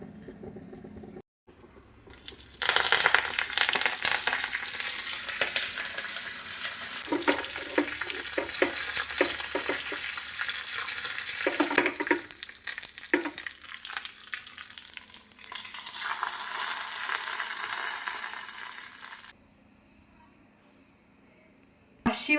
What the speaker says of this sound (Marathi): तर बेडगी मिरची टाकूया